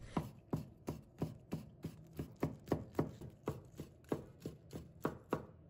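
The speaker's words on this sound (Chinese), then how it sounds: "再准备一把黑木耳，这是我提前给它焯好水，然后先切丝" Blanched black wood ear fungus being sliced into strips with a kitchen knife on a board, about fifteen crisp, evenly spaced chops in a quick steady rhythm, close and fairly quiet, without speech.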